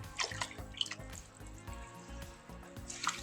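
A synthetic lace front wig is lowered into a basin of soapy bath water, giving soft close splashes and gentle dripping sloshes, quiet and brief, with no voices.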